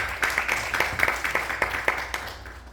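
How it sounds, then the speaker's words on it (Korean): Audience applause at a teacher safety-education training workshop, a steady patter of many hands clapping at moderate distance, with individual claps standing out rhythmically before fading toward the end. "박수 한번 부탁드리겠습니다"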